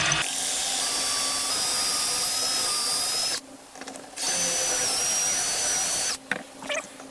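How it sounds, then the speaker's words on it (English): Power drill boring into a butcher block island top, two sustained high-pitched whining runs of about three seconds each separated by a short pause, close and loud, with brief clicks at the end. "I have the drill set to the proper depth"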